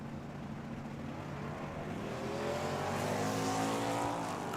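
Drag racing cars, a Mopar and a Chevrolet, roar down the strip at a dragway, a dense continuous engine blare that rises and swells as they accelerate away, with no talk.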